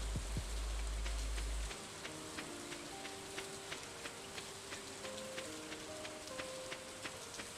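Soft, steady spring rain patters in the Stardew Valley game, a faint even hiss with small scattered drop ticks, under a low tonal hum and without speech.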